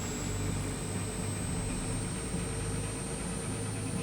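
Submarine engines run at full speed in the Wolfpack game as a steady, loud mechanical drone with a constant low throb and a thin high whine, unchanging throughout.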